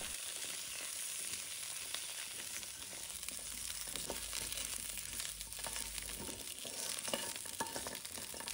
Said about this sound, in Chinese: 锅中加入少许食用油，将控干水分的猪脚放入锅里来，快速的翻炒